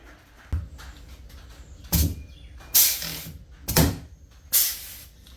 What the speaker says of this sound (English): So we'll get the rivets put back in